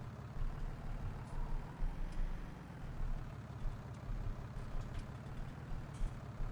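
Truck engine in Farming Simulator 19 idling and revving low while backing up a small trailer, a steady mechanical drone with faint higher ticks and clicks, heard alone without talk.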